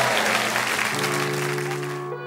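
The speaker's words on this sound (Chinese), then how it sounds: "来，我们掌声欢迎" Studio audience applause on a Chinese dating show fills the stage as a broadband wash of clapping, with a male guest's music starting up underneath partway through.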